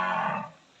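A single loud, close moo from a Gir bull, strong and sustained at first and then tapering off as it ends.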